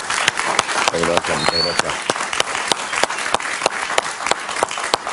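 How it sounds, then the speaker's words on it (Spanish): A television studio audience claps in sharp, regular beats during a talk-show interview, with someone briefly speaking over the applause. "Un aplauso para él, por favor."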